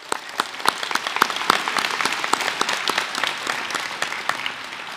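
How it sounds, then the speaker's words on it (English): An audience at a senior school prizegiving bursts into applause after a performance, with sharp individual claps standing out close by within a loud, continuous clatter that eases slightly toward the end. "Let's give them another round of applause."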